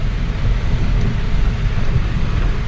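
Heavy rain falling in a steady, dense wash of noise with a strong low rumble underneath, constant and loud throughout with no voices.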